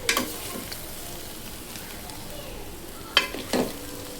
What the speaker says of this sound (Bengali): ঢাকনাটা উঠাইয়া আবার একটু নেড়ে দিতেছি।